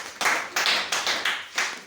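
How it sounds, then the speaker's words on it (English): An audience at a school talent show gives short bursts of hand clapping, about five quick rhythmic waves of claps close by with no talk over them. "Clapping for him."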